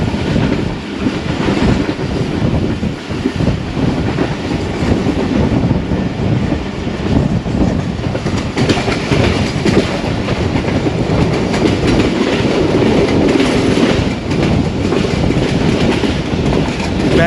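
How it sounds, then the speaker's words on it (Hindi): The 39UP Jaffar Express, running on a single line between Lahore and Rawalpindi, rumbles loudly along the rails with steady clickety-clack and broad roaring noise as it gathers speed, continuous and close. "बेहतरीन रफ्तार पकड़ रही है ट्रेन ने"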